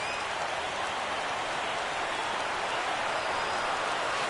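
A big baseball stadium crowd of over 31,000 roars on its feet at a Blue Jays at Brewers game, a dense, steady wash of cheering that holds at full volume for the whole stretch.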